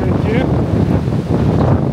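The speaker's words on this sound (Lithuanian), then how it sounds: "Jaučiat koks vėjas." Strong wind buffets the microphone at a campsite in Latvia, a loud, continuous low rumbling roar lasting the whole moment, with a faint voice mixed in.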